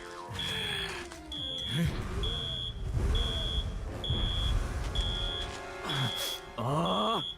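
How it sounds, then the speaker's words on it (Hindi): An alarm in an animated cartoon beeps in a steady, evenly spaced series of high electronic tones, about one per second, over vehicle and action sounds. "लेकिन अलार्म क्यों ऑन है?"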